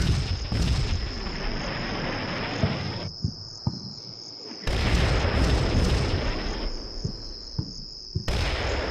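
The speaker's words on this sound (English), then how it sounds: "Here, heavy, long artillery barrage." A heavy, long artillery barrage in the Combat Mission: Shock Force 2 video game plays as repeated dull booms and thuds under a constant high insect-like chirring, with the background cutting in and out between blasts.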